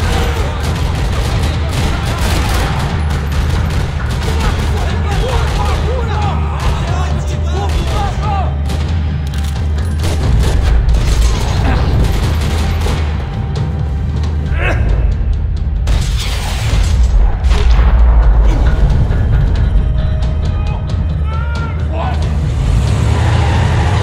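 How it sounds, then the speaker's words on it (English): Gunfire in the Max Payne 3 video game: dense bursts and booms of shots run through a loud, busy soundscape of game action, with the sound steady and heavy from start to finish. "Gunfire."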